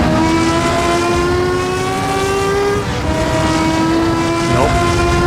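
A Porsche race car engine in a racing video game set at a 1971 World Sportscar Championship round in Buenos Aires, holding a loud, steady high whine with gear shifts and pitch changes, under brief talk.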